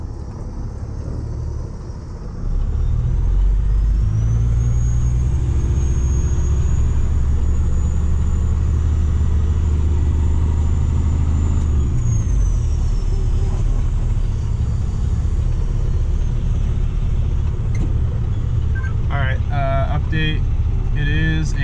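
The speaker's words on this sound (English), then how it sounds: "Gotta get the truck tires dirty here." A 6x6 water truck with a broken drive shaft rumbles off-road, its engine growling loud and steady close by, with a whine rising and falling in the middle and a voice speaking over it.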